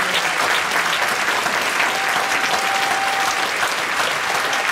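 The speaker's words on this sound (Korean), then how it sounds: "우리 중고등부를 위해서 박수로 한번 뜨겁게 환영합니다" A church congregation at a Friday night service applauds steadily to welcome the youth group, a dense, even wash of clapping from a large crowd that fills the room without a break.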